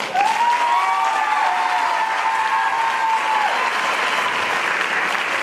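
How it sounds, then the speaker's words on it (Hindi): An audience at an award ceremony applauds loudly and steadily, a dense crowd clapping without a break for several seconds, with a faint voice barely audible underneath. "आपके लिए खुद के लिए एक बार तालियां जोरदार इस बच्ची के साथ सम्मान है"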